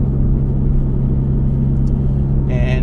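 A Mitsubishi Evo X MR with a worn SST dual-clutch gearbox that slips on gear changes drives along, giving a steady, loud low engine and road rumble throughout, with a brighter whine rising near the end.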